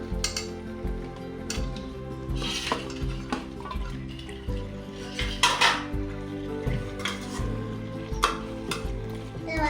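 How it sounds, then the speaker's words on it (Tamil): Chicken sautéing in a pot for dum biryani with curd and spices, a steady sizzle broken by repeated loud spoon scrapes and clanks against the metal pot. "இது 5 minutes நல்லா வதக்கலாம்."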